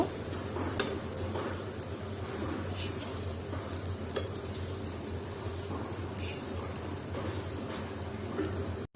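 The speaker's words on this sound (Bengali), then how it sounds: "আর এই একই প্যানে আমি মরিচ দিয়ে নিয়েছি আর এই মরিচটাও আমি তেল দিইনি ওই তেলে ভেজে নিব" Chilies fry in leftover oil in the same pan used for onions, a soft, steady sizzle with occasional clicks of a spatula stirring against the pan, fairly quiet and without talk.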